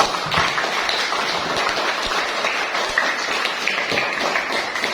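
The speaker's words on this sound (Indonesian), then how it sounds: "Okay, everybody, give applause for us." Pupils in a classroom give a round of applause during an English lesson on telling time, a dense, even patter of many hands held at a steady level for several seconds.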